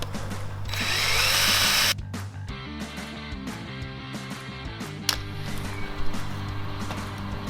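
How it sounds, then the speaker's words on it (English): A drill runs at high speed in a short loud burst, drilling out a screw head on a Honda CB250 carburetor, then stops, followed by clattering metallic taps and small scraping sounds up close. "then you can go in with the smaller drill"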